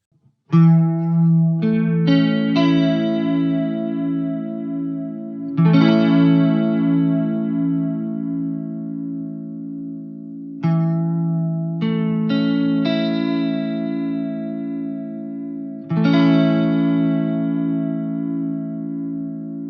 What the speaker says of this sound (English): going between almost purely pitch modulation vibrato to something a little more chorusy